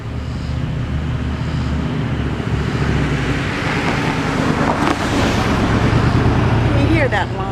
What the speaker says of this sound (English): Here comes a car from behind you.